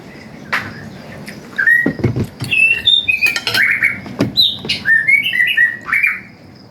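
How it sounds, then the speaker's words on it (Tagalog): A bird chirps and squawks in bright, repeated calls with short gaps between bursts, close and loud, with no talking. "ang ingay ng aming ibon"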